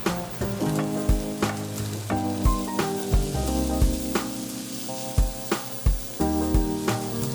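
Bacon and sausage brown in a wok with a constant loud sizzle, broken by repeated thuds and scrapes of stirring in an uneven rhythm.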